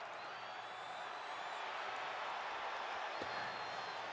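Virtual arena crowd from the WWE 2K25 wrestling video game, a steady broadband murmur of buzzing fans that holds level throughout with no distinct voices standing out.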